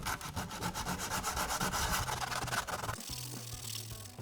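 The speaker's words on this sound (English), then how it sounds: "Just grabbed an 80 grit disc." An 80 grit disc sands crash-damaged Lamborghini carbon fibre with a close, steady abrasive rasp that shifts to a lower, smoother tone partway through.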